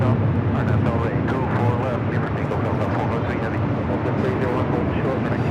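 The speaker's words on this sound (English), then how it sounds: "Air Cargo A330-200 converted A330 lighting up via south side at takeoff" An Air Cargo Airbus A330-200 converted freighter takes off from the south side at LAX, a continuous heavy jet roar with rumbling crackle, with a voice talking over it.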